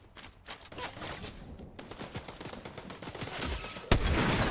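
Enemy gunfire in Fortnite rattles in rapid bursts at mid distance, irregular volleys building up before a loud close shot near the end, with no talk over it.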